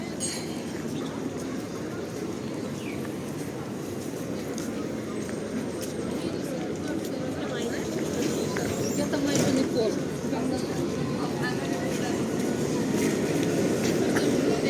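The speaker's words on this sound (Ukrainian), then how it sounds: "Зараз трамвай зупиниться на зупинці." A tram pulling into a stop on a Lviv street at night rumbles along with a steady, grinding rail noise that grows slightly louder, wheels clattering faintly, heard from close by without talk.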